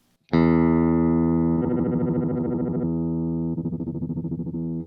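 An electric guitar chord rings through a Digitech Hammer On pedal with distortion, held steadily while the effect's warbling modulation kicks in, pauses, then returns at a changed tempo, with no voices.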